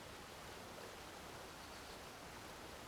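Flowing water rushes in a steady, dense hiss with no breaks, soft and even throughout, with no voices.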